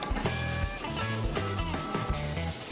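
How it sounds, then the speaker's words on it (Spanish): Wooden craft pieces being sanded by hand, a close, rhythmic scratchy rubbing in quick back-and-forth strokes, heard alone with no speech. "Seguimos lijando nosotros."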